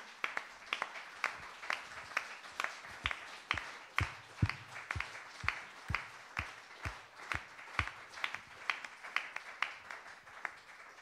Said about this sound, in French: que déjà vous vous applaudissiez, vous